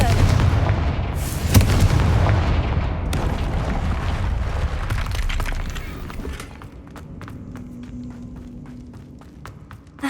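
Repeated explosive blasts from a fire spell cast in the video game Hogwarts Legacy, loud booming bursts crowding the first few seconds, then sparser sharp impacts and rumbling game ambience with footsteps.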